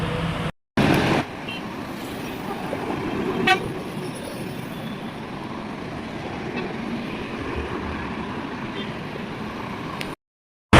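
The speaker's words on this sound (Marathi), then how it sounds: "एवढ्या गाड्या इथे चालल्यात ना, एवढ्या गाड्या चालल्यात ना, काय सांगू तुम्हाला." Heavy road traffic streams past a wholesale market in a steady, loud rumble of engines, with a horn tooting once and traffic noise continuing throughout.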